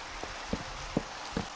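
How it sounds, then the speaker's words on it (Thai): Rain falling in the video game Minecraft makes a steady hiss of rainfall, with a few soft scattered thuds of drops standing out at intervals against the even wash. "อ๋อฝนตก เป็นบรรยากาศที่ไม่ดีซะเลย"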